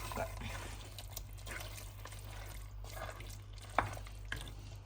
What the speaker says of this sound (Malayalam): വീണ്ടും നന്നായിട്ട് ഇളക്കി നന്നായിട്ട് യോജിച്ചു